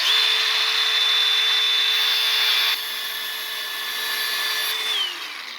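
Stainless steel ground against a spark-testing grinder, a steady high whining hum with a fixed tone that drops in level partway through and then winds down near the end.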